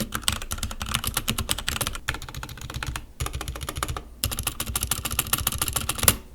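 Fast, steady typing on a Cooler Master low-profile mechanical keyboard with ABS keycaps, dense bursts of crisp key clicks heard up close, broken by two short pauses.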